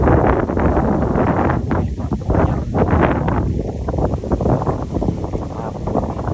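Strong wind buffets the microphone beside a spring, a loud continuous roar with rustling gusts and no clear voices.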